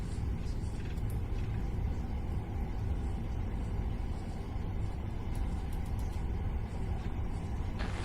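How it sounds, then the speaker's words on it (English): Reverse thrust on a Boeing 777-200 after landing in a flight simulator game: a steady, dense low roar and rumble holding at a constant level for the full eight seconds, with no breaks. "Reverse thrust."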